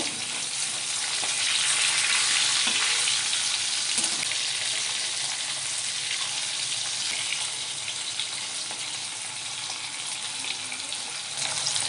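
Pieces of hilsa fish fry in oil in a pan and are turned over to cook the other side, making a continuous, even sizzle with a faint clink or two and no voices.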